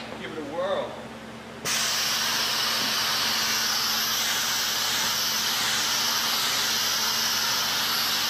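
A Piab Kenos vacuum gripper lifts a 55 lb sack of brewer's grain. A sharp onset of loud, steady hissing suction comes in after a brief moment of quieter handling noise and holds constant to the end.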